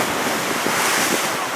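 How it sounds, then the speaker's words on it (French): Strong ocean waves break on the beach at Biarritz, a loud continuous surf roar mixed with wind buffeting the microphone, with no pause across the short stretch. "les vagues étaient très fortes"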